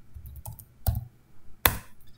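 A few sharp keystrokes on a computer keyboard, three or four separated clicks with the last one loudest, close and alone against a quiet room while entering a GCC command on Ubuntu Linux.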